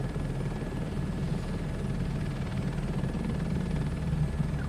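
A helicopter's steady rotor and engine drone in Microsoft Flight Simulator 2024, a continuous loud low hum with rhythmic blade chop, unbroken and without talk.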